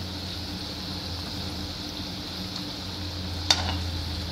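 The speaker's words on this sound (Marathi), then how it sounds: "जशा तुम्ही मंद गॅसवर तळाल ना त्या छान होतात, मग आतून पण चांगल्या शिजतात।" Methi bhaji, fenugreek fritters, frying on low heat in hot oil, giving a steady even sizzle and hiss throughout, close, with one brief clink near the end and no talk.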